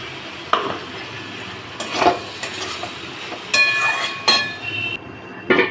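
Boiled potato and fried okra are stirred with poppy seeds in a pan, giving several bursts of scraping and a soft frying hiss.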